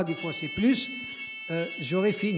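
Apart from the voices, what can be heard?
buzzer or alarm sounding during a talk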